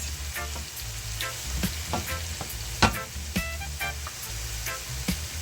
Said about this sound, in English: frying up a little bit